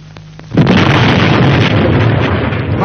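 A loud explosion bursts out after a moment of quiet, followed by a sustained, roaring rumble of debris and noise that continues to the end.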